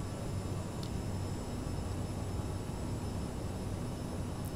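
CRJ-700 jet engines in Microsoft Flight Simulator 2020, a steady broadband roar with a faint high whine, even and unchanging throughout, heard as cockpit background.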